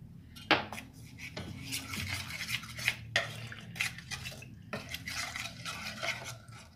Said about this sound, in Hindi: अब हम इसे अच्छे तरीके से मिक्स कर लेते हैं।